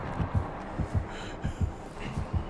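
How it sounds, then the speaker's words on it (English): Paired heartbeat thumps pulse steadily in a Murder Town video game, deep and close, about five double beats under a faint background hum with no talking. "Oh, there's a heartbeat?"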